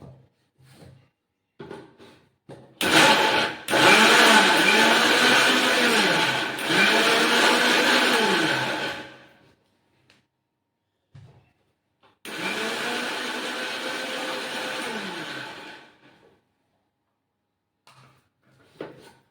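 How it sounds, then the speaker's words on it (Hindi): A kitchen mixer grinder blends banana and semolina cake batter in two loud, close bursts of whirring motor noise, the first about six seconds long and the second shorter, separated by quiet pauses. "मिक्सी में ग्राइंड होने लगा है"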